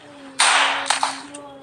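A single sharp gunshot from a shooting video game cracks out, followed by a short ringing tail and a couple of quicker echoing snaps fading within a second.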